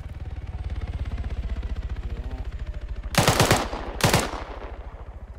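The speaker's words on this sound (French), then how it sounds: "là il y a un mec qui tire à la doucette, il y a 8 morts" Automatic gunfire rattles steadily in ArmA 3 as a soldier shoots in a cooperative match, a fast even stream of shots with two louder, closer bursts near the end and no talk.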